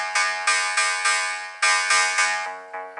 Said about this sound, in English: It's got a kind of square wave 80s kind of sound to it